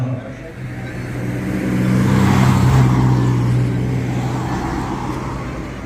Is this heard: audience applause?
no